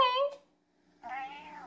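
A house cat meows twice, close by and clear, a short call followed by a longer, drawn-out one after a brief silence.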